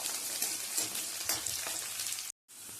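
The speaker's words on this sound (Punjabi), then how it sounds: "ਤੇਲ ਗਰਮ ਹੋ ਗਿਆ ਜੀ ਚਲੋ ਆਪਾਂ ਤੜਕਾ ਲਗਾਉਂਦੇ ਆ" Spices being tempered in hot oil for a quick milk-based ridged gourd (tori) sabzi, a steady close-up sizzle and crackle with a brief cut to silence near the end.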